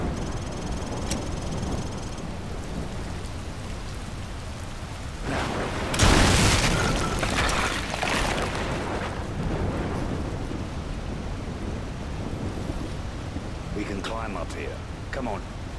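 In the Call of Duty Modern Warfare 3 video game, a deep thunder rumble and blast swell midway through steady rain, with a voice speaking around it.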